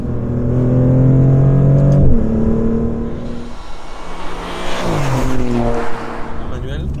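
Maserati GranTurismo Modena V6 engine accelerating through an eight-speed ZF gearbox, rising in pitch with audible gear changes, loud and close over roughly seven seconds, with people talking over it.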